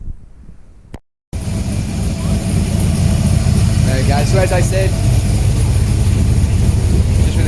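A 6.0L engine in a Chevrolet Canyon build idles loudly close by, a steady low rumble that fills the clip after a short gap, with someone speaking over the start.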